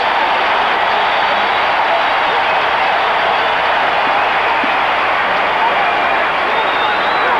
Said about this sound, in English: And the crowd celebrates, applauding itself.